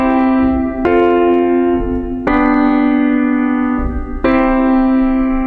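Three sustained chords struck one after another on a keyboard with piano-like tone, a I-IV-V progression, each chord ringing out for a second or two before the next, close and clear without speech.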